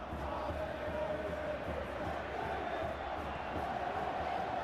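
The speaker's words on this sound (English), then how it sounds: "you can hear how the crowd are reacting to this too" A stadium crowd roars steadily in the football video game PES 2025, a dense, continuous wash of massed voices that holds at even loudness throughout with no clear breaks.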